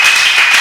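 Church congregation applauding in praise, a dense burst of clapping throughout, loud and close, with no speech.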